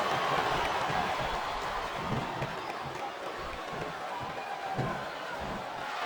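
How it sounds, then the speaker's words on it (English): Steady, dense roar of a capacity arena crowd at a WWE SmackDown vs Raw 2007 table match, holding at a constant level throughout with no clear peaks or individual cheers standing out. "This capacity crowd is making their opinions known tonight."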